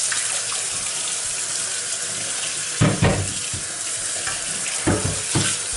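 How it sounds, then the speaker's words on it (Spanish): A pot rinsed under a running kitchen tap, with loud steady water rushing into the sink and a few clunks of the pot being handled close by. "ahora ya voy a enjuagar"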